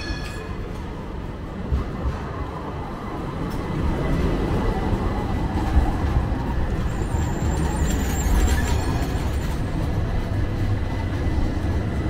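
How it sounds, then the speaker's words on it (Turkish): Tram pulling into a stop in Istanbul's old city near Sirkeci, a steady low rumble of wheels and motor that swells and holds over street noise, with no speech. "tramvay geliyor"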